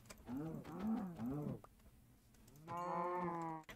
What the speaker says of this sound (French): on va juste tuer ces vaches